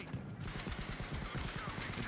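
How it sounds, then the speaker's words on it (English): Rapid automatic gunfire in a fast-paced shooter video game, a dense stream of close, loud shots filling the whole moment with no pauses. "What gun is that?"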